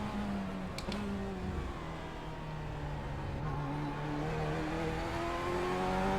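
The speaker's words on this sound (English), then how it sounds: "I'm getting used to the pitch of the motor, the rhythm, when and where to shift, what gear to be in each corner." A Chevrolet Corvette C8 engine in the iRacing video game, a faint, continuous motor drone that climbs in pitch through the gears, with brief dips at shifts and a steady whine underneath.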